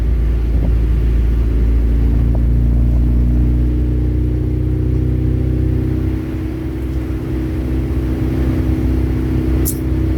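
A K24-swapped 1981 Honda Civic wagon cruising in gear, its engine droning as a loud, steady low rumble with road noise that eases slightly partway through.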